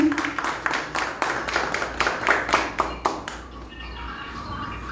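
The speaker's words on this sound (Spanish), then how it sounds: "Un fuerte aplauso." Audience clapping at a marathon press conference, a burst of separate claps close by that thins out and fades over the last second or so.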